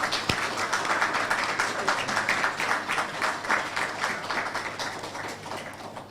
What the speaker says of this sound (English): So I'd like to get a round of applause for my team.